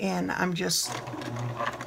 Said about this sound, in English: So I'm sitting here right now at my sewing machine,